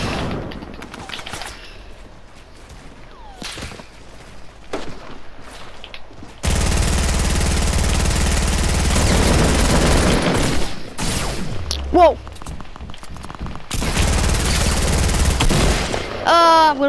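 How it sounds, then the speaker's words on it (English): A new combat SMG in the battle royale game Fortnite fires in sustained rapid bursts, loud and close, with short gaps between volleys, a few sharper booms, and quieter scattered shots early on. "That is the new gun, the new combat SMG."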